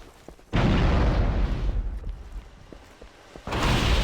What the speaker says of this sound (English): Grenade for you.